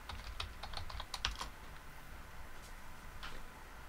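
Password keystrokes tapped on a computer keyboard, a quick cluster of close, crisp clicks early on, then a pause and a few scattered taps later, over a low steady room hum.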